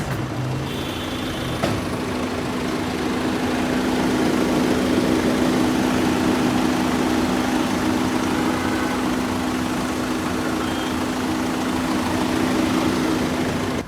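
A 2020 Tata Harrier BS6 SUV's diesel engine runs at a steady idle, heard from outside the vehicle: a constant low hum with a firm, even tone, fairly loud and without any talking.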